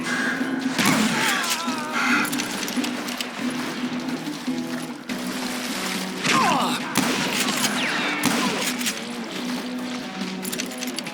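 Gunfire fills a Call of Juarez: Gunslinger shootout, with rapid shots cracking over and over amid loud, busy game sound and a steady musical drone underneath.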